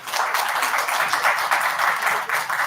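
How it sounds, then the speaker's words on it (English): Audience applause at an engineering conference in Jaipur, a steady dense wash of many hands clapping together, loud and sustained throughout without a break. "A huge round of applause for sir."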